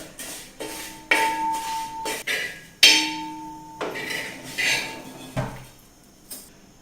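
Roasted light-brown vermicelli scooped out of a pan with a metal spoon, a series of sharp metallic clinks and scrapes against the pan, some ringing briefly, in an irregular rhythm, close by and with no talking.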